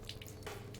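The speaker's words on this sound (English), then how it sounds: "Ah, a well-functioning faucet." Faucet running in the Deponia game world, a soft, brief splash of water pouring into a basin, faint and close, with no voices.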